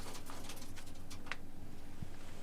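White pigeons kept in a loft coo softly and faintly with light wing or foot patter, quiet and close, with a couple of small clicks.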